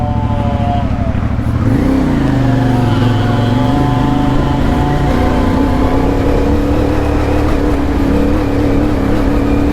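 A CF Moto 450MT motorcycle rides off-road with a loud, steady engine drone close by, its pitch sagging and then rising again as the throttle changes.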